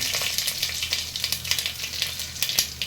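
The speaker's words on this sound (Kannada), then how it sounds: "ಒಗ್ಗರಣೆಗೆ ಸಾಸಿವೆ ನಾನು ಜೀರಿಗೆ ಹಾಕೊಂಡಿದ್ದೀನಿ ಒಣಗಿದ ಮೆಣಸಿನ್ಕಾಯಿ ಹಾಕ್ಕೊಳ್ತೀನಿ ಒಗ್ಗರಣೆಗೆ" Mustard seeds, cumin and dried red chilli crackle and pop in hot oil and ghee for a tempering, a dense, busy, close sizzle that carries on without pause and with no voices.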